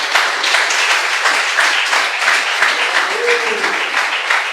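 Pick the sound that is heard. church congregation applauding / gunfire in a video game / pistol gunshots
church congregation applauding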